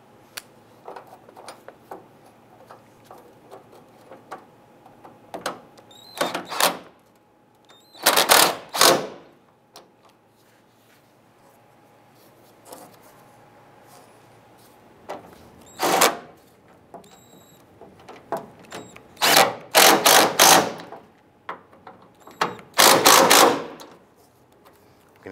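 Bolts on a Dodge Ram 1500 tailgate hinge, 2002–2008 model, are tightened with a power tool, loud rattling bursts of ratcheting impacts in short separate runs between quieter handling noises.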